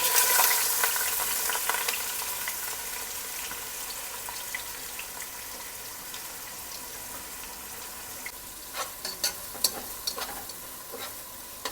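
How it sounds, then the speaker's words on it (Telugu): Onions and curry leaves fry in hot oil for a fish curry, a steady close sizzle with scattered clicks of a spoon stirring, fading slightly, with faint running water nearby. "ఉల్లిపాయలు కొంచెం ఎగినాయి"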